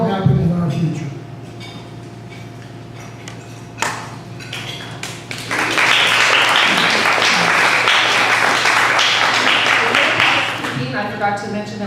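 Audience applause breaks out midway through and holds steady as a dense, loud wash of clapping in a hall, with a faint voice and scattered noise before it starts.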